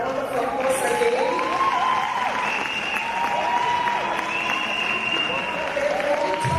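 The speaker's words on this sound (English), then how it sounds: "Let's give them a round of applause again." Applause from an audience at a presidential summit on gender-based violence, a continuous crowd wash with cheering and sliding, whistle-like tones running over it, steady and fairly distant.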